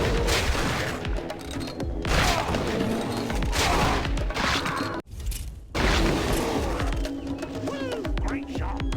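Hunting-rifle shots and booming blasts ring out in Cabela's Dangerous Hunts 2, with several loud reports and a sharp break in the middle, over game mechanism sounds and some speech.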